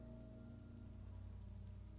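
Rain falls in the video game Disco Elysium, a soft, continuous patter on surfaces over a low steady hum, quiet and even throughout with no voices.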